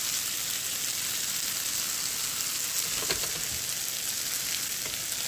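A breakfast dish fries in a pan with a steady, even sizzle and crackle, close and constant throughout, with a brief scrape near the middle and no talking.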